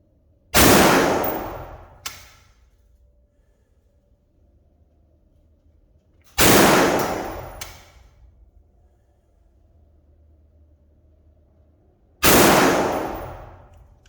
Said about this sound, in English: We'll shoot 5 shots of the really good stuff here.